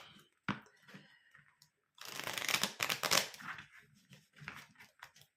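Tarot cards being shuffled by hand up close, starting with a few soft taps and slides, then a dense riffling burst, followed by scattered flicks and taps.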